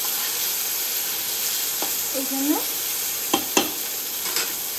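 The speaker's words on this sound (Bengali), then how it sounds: "এটা একটু আওয়াজ করে তেলটা ছিটকায়" Boal fish frying in hot oil in a pan, a steady sizzle with a few sharp pops and spatters of oil near the end, a short spoken phrase heard over it.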